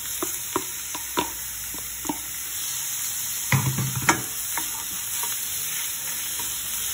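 Shrimp frying in a pan with onion and garlic, a steady close sizzle with scattered clicks and knocks of stirring and pieces landing in the pan, no talk.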